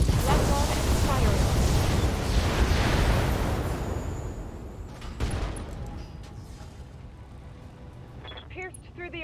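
Mech weapons firing and exploding in the PC game Battletech, a dense loud barrage of booms and blasts that gradually fades, with a sharper impact midway and voices near the end.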